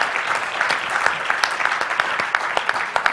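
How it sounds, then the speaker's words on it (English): Conference audience applauds panelists at the close of a NATPE 2012 session, a dense, steady burst of many hands clapping that fills the room without a break. "Let's give a round of applause to our panelists."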